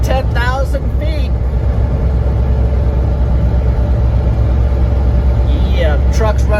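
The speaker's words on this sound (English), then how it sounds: "Yeah, the truck's running good." A Chevrolet Squarebody Suburban truck engine drones steadily as it climbs a snowy state highway near 10,000 feet, with a deep, constant hum filling the cabin while brief bits of talk come at the start and end.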